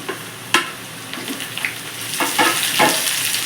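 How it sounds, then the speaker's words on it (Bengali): Seven or eight crushed garlic cloves sizzle in a pan, the hiss swelling as a few stirring scrapes and clinks sound close by. "রসুনটা দিয়ে একটু ভালো করে ভেজে এক দু মিনিট"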